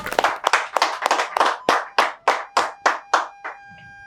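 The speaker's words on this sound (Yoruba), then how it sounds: "Ẹ jẹ́ pàtẹ́wọ́ fún wọn." Studio audience on a Yoruba-language game show bursting into a run of roughly a dozen sharp, evenly spaced claps, loud and close, tapering off near the end with no voices over it.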